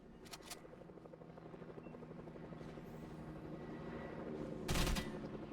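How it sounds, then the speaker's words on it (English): A helicopter in the video game Fortnite, played on an iPad Pro 2018, gives a steady low, fluttering rotor drone that swells toward the end, with sharp gunshot bursts at the start and again near the finish. "And looking at this helicopter right now,"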